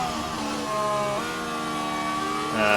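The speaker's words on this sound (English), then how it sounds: "all the teams have like various different engine sounds" Engine notes of F1 race cars in the F1 Manager 24 racing game during the Bahrain Grand Prix, a steady high-pitched whine whose pitch climbs and shifts through gear changes, loud and continuous with no talk.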